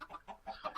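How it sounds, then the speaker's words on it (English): Chickens clucking in a video game, a few short bursts of clucks repeating in quick succession, fairly loud and close with no talk over them. "I'll have to turn those chickens down in post. They're just too loud."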